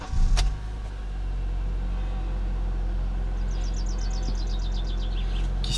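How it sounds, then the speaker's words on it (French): A 2003 Honda Accord 2.4 K24 VTEC is started with a key: a short sharp starter burst, then the engine settles into a steady, quiet idle heard from inside the cabin. "Donc un système de démarrage à clé classique."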